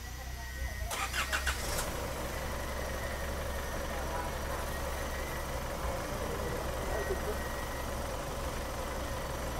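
A car that was submerged in a flood is cranked: a brief starter whir of a few rapid pulses, then the engine catches and settles into a steady low idle, with people talking nearby.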